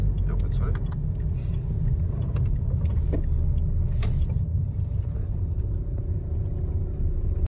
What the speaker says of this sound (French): c'est reparti, on monte en voiture